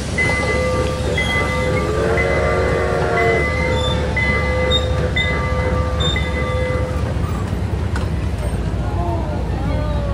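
A passenger train rolls through Old Port, Montreal, with a loud, steady rumble and long sustained horn-like tones throughout.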